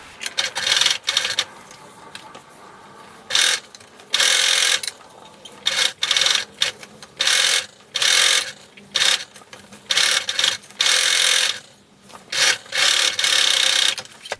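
A sewing machine stitches the seam of a fabric box, running in short, loud whirring bursts that stop and start, including brief backstitching runs, with quiet gaps between them.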